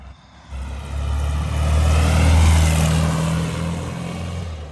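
A 1972 VW Super Beetle engine accelerates close by, a loud, steady rising drone that swells through the middle and eases off toward the end.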